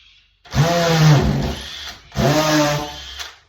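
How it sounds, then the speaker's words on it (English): Two bursts of a whining power drill, each spinning up and holding for about a second before stopping, close and loud. "Can you feel the push of the drill as you're using it?"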